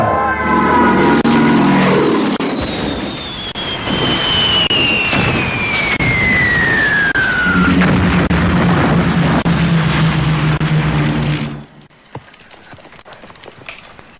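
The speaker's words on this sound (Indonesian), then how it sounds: "Kediri sudah dilululantakkan oleh bom pesawat-pesawat Belanda." Dutch warplanes bombing Kediri in a war film: loud, continuous rumbling explosions and aircraft noise, with a descending whine of a plane passing, before the roar cuts off abruptly to near quiet.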